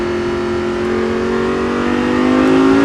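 A close, loud Lamborghini Gallardo engine hums steadily and slowly climbs in pitch as it accelerates on the La Ferté-Gaucher race circuit, with no talking over it.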